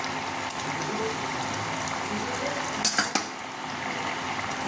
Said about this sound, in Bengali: এই ঝোল ফুটে গেছে, এবার মাছগুলো দিয়ে দেবো।